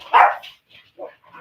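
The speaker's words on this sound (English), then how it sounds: "Please don't bark." A dog gives a short, sharp bark followed by a couple of softer yips, brief and fairly close, with no other sounds.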